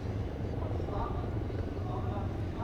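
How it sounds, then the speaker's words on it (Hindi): Indian Army advanced light helicopters fly during a training exercise, their steady rotor and engine roar filling the scene loudly and continuously with no break. "और अब आप देखेंगे 2 एडवांस लाइट हेलीकॉप्टर्स, जिसके माध्यम से कमांडोज की मुख्य टुकड़ी यहाँ पहुंचेगी।"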